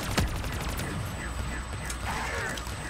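Rapid bursts of automatic gunfire from a zombie-survival round of Call of Duty Black Ops 3, loud and dense with sharp mechanical clatter, continuing steadily without pause.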